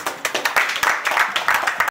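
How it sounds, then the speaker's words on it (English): An audience at a business event gives a round of applause, a few seconds of close, lively clapping with distinct sharp hand strikes that stops abruptly. "A round of applause for me"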